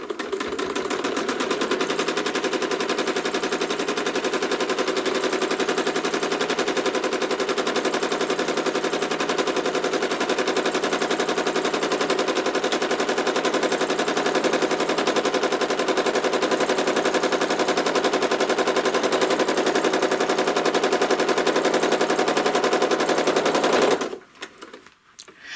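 A domestic sewing machine stitching diagonal quilting lines across a quilt block, running in a steady, rapid, continuous rattle for over twenty seconds before stopping abruptly near the end.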